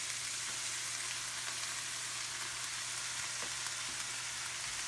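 Vegetables sizzle in melted butter with flour sprinkled over them for a pot pie, a steady, even frying hiss that runs alone throughout with faint crackles.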